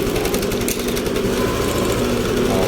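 A Yamaha Aerox scooter engine idles steadily after an oil change, a loud, close, even mechanical hum with a constant low throb and no revving.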